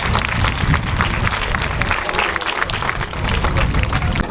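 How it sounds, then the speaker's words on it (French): A roadside crowd at a professional cycling race in Isbergues applauds a rider, loud dense clapping mixed with crowd noise and occasional voices, continuous throughout. "On l'applaudit encore plus fort."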